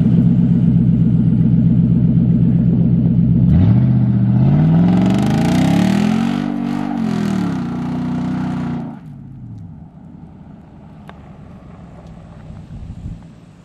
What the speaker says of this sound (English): Those pops and backfires it was doing whenever you were revving it were so cool.